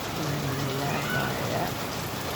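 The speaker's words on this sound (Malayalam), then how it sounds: "ഇത് എന്ത് മഴയാണെന്ന് മനസ്സിലാവില്ല" Steady rain falls outdoors in a continuous even patter, while a person's voice comes through faintly underneath.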